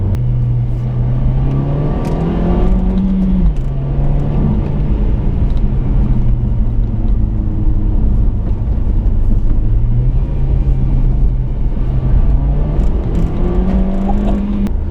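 A 2015 Nissan Juke Nismo RS is driven in sport mode. From inside the cabin there is a continuous engine drone whose pitch climbs and drops repeatedly through gear changes, with a steady rumble of road noise underneath.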